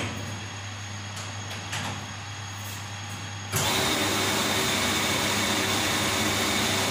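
Water pump motor switching on after a capacitor replacement: a steady broadband whir starts abruptly and runs on loud and constant after a quieter hum.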